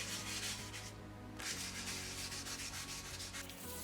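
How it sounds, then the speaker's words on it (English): A spray-painted GMMK PRO keyboard case is wet sanded by hand, making a close, continuous rubbing and scratching sound with a brief pause before the strokes resume. "Try to be gentle with wet sanding, as you don't want to sand off too much of the paint."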